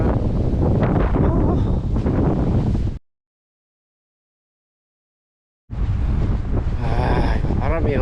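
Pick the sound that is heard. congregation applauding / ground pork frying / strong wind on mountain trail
strong wind on mountain trail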